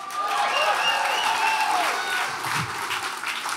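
Audience at the Writers Guild Awards applauding loudly and steadily, a dense wash of clapping with some crowd murmur throughout.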